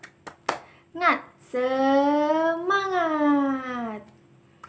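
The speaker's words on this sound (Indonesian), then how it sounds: "1, 2, 3. Tepuk semangat. Semangat." Primary school children in a classroom lesson do a clapping chant, a few sharp claps up front followed by a long, drawn-out sung vocal shout, close and clear over a quiet room.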